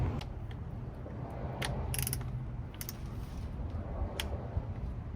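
Torque wrench set to 88 inch-pounds clicking as it tightens valve cover bolts on a BMW, a few sharp metallic clicks and ratchet ticks close up over a low steady background hum.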